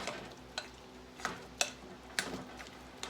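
A spoon stirs a thick batter of okra and onion for fritters in a bowl, giving soft scraping with a handful of quiet sharp taps spaced about half a second apart.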